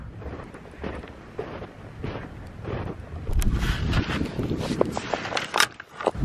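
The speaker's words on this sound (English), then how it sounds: "Not sure if the camera's picking up that wind or not, but it's pretty windy." Strong wind gusting up to about 55 mph on a homestead roars across the microphone, rumbling continuously and growing louder partway through, with no voices.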